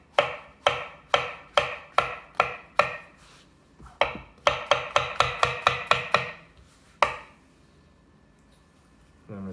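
A knife chops mushrooms into large pieces on a cutting board in a kitchen, making crisp, evenly spaced knocks in two quick runs of about eight strikes each, followed by a single final cut.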